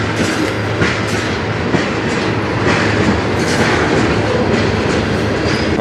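CN freight train rolling past on the Strathroy Subdivision, a loud, close, continuous rumble with rhythmic clickety-clack of wheels over rail joints and no voices.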